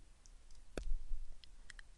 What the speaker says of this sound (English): I am clicking on the first link that is returned to access the documentation